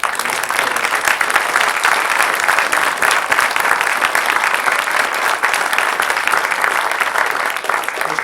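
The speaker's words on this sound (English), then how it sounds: "So please give a round of applause for Mr. Pradell" Loud, sustained applause fills a school board meeting hall for a student honoree, steady dense clapping from a crowd throughout with no break.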